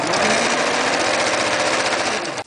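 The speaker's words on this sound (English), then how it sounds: "What I'm just gonna do now is just sew down here and sew down." A sewing machine stitches fabric for a beach bag, running in a fast, even mechanical rattle close by for a couple of seconds before stopping abruptly.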